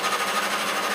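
A lathe fitted with a radius attachment runs at 710 RPM, giving a short, steady mechanical whirr and buzz of machining with no speech.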